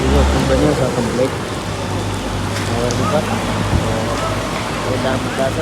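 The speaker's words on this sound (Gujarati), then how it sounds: "વરસાદ જોરદાર ચાલુ થઈ ગયો છે." Heavy rain pours steadily outdoors on a trip to Ramdevra (Runija), a dense, continuous hiss of drops on surfaces while people talk over it.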